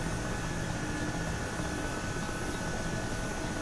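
A Huey helicopter flying in a flight simulator game gives a continuous, dense rotor and engine roar at steady loudness throughout, close and unbroken, with no talk.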